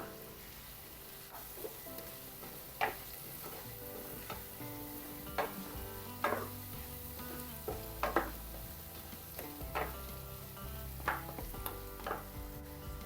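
Curry in a pan being stirred after turmeric powder goes in, with faint sizzling and intermittent spoon clinks against the pan, quiet and close, no voices.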